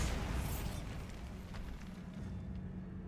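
A Bombarda blast spell goes off in a cave in a wizarding video game, giving one broad, rumbling burst up front that settles into a low, sustained roar and crackling debris.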